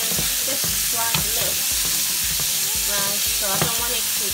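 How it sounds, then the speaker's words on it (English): Beef browning in oil in a pot, with a continuous loud sizzle and rhythmic stirring scrapes running through, plus a few brief clinks. "the meat is turning just slightly brown, so I don't want it to cook too much"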